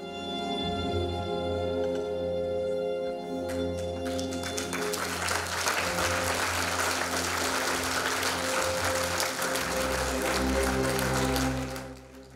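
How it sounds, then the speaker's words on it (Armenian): A theatre festival audience in Alaverdi, Lori, gives long, warm applause for the visiting Gyumri theatre troupe. Sustained, dense clapping swells after a few seconds of music and continues loud and even almost to the end. "Ալավերցի հանդիսատեսը ջերմ ու երկարատև ծափահարություններով է ճանապարհում հեղինակավոր թատրոնին"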